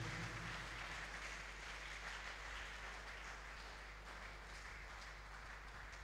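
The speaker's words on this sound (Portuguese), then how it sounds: "Uma salva de palmas em nome do Senhor Jesus." Church congregation clapping in praise during a Pentecostal-style service, a faint, continuous wash of applause under a steady low hum, even and unbroken throughout.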